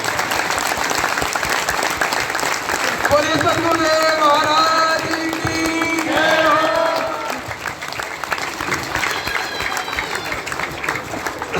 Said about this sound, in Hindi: और आज सबने ताली बजा दी